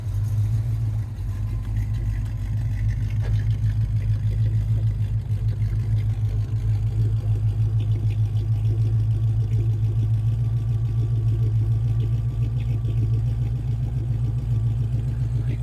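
A restored 1985 Ford Mustang GT with a rebuilt 5.0L V8 and 5-speed idles steadily up close, a deep even rumble with a light mechanical clatter running unbroken throughout.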